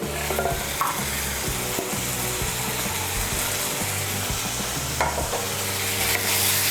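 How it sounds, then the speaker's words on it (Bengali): Green peas dropped into a frying spice paste for a potato curry, stirred steadily with loud scraping, sizzling and knocks against the pan, close and continuous with no talk. "আমি এর মধ্যে 1 মুঠো মটরশুঁটি দিয়ে দিচ্ছি।"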